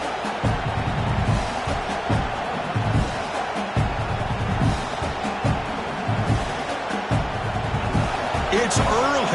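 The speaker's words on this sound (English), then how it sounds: "this crowd is fired up. Listen to this noise here." A college football stadium crowd at an Oklahoma Sooners game roars steadily, loud and continuous, with thumps and scattered shouts mixed into the dense wash of noise.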